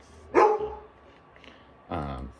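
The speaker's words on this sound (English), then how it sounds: "Sorry about my dog barking in the background." A dog barks twice in the background, two sharp separated barks with a quiet pause between, fairly loud but slightly distant indoors.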